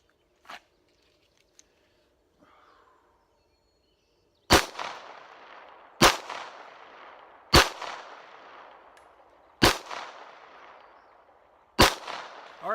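Five handgun shots ring out one at a time during a shooting drill, evenly spaced about a second and a half apart, each a sharp loud crack with a decaying echo, after a few faint handling noises.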